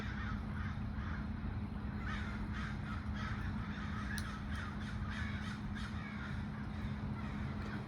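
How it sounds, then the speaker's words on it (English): A large flock of crows caws while flying over, a steady mass of overlapping caws at moderate distance under constant background noise. "these are massive numbers of crows that seem to do a flyby every so often"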